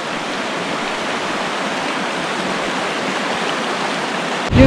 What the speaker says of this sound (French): Il y a un petit ruisseau qui nous accompagne sur le chemin.